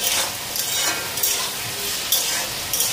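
Sliced potatoes sizzle steadily in a hot breakfast pan, with repeated bursts of scraping and stirring from a utensil roughly every half second, close and fairly loud with no talking.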